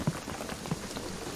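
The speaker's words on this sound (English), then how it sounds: "the rain is gonna flood it" Steady rain from the video game Shadow of the Tomb Raider, a soft continuous wash of falling drops on surfaces with a couple of faint low thuds, quiet and even with no talk over it.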